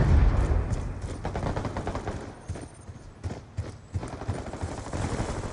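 Gunfire in Call of Duty Black Ops 2, rapid repeated shots in short bursts at moderate loudness, mixed with other game noise.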